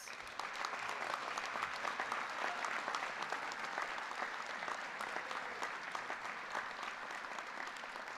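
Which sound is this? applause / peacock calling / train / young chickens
applause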